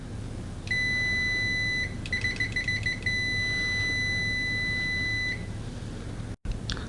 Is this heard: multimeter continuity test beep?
yes